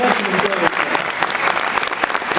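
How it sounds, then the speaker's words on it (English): A convention panel audience at SGC 2013 breaks into loud, dense applause, many hands clapping together in a sustained burst that stays strong for the whole moment. "Don't raise your hand. Clap."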